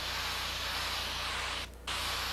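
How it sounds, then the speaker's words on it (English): An airbrush sprays paint for a portrait's eye pupil: a loud, even, close hiss that runs steadily, cuts out briefly, then resumes. "For the pupil, I just point the airbrush and just spray, and it creates a circle on its own."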